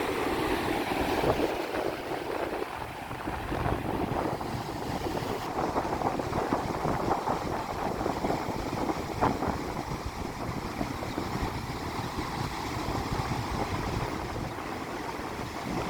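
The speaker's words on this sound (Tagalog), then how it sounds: "At mahangin ngayon." Strong wind roars steadily by the sea, buffeting the microphone with constant rumbling noise and a wash of waves underneath.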